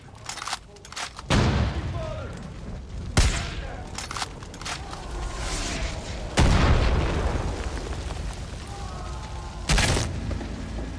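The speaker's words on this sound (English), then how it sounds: "They're shooting mortars at me." Mortar explosions in the video game Star Citizen: three heavy booms spaced a few seconds apart, loud and close, with a busy rumble and scattered gunfire between them.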